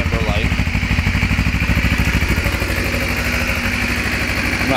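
A 2012 Kawasaki Ninja EX250 motorcycle engine idles close by with a steady, rapid low-pitched pulsing throughout and a faint whine above it, loud and continuous without a break.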